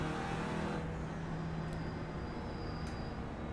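Race car engine in a racing video game, an Audi TCR touring car at Laguna Seca, hums in a continuous steady drone, moderately loud with little change, heard alone.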